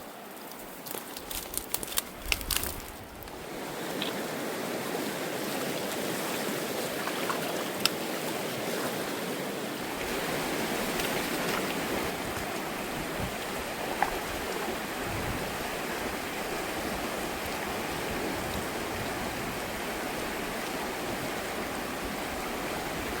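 Dutch Creek runs steadily through a Canadian mountain valley as a broad, continuous rush of flowing water, loud and close, with a few brief knocks and clatters in the opening seconds and no voices.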